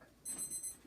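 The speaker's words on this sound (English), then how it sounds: "timer is gone off" A kitchen timer goes off with a short burst of high, rapid electronic beeping, clear but not very loud, with no voices over it.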